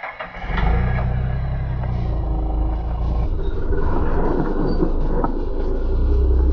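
A vehicle engine starts up and settles into a loud, steady roar with a deep rumble that swells slightly toward the end as more gas is given. Close and continuous, no speech.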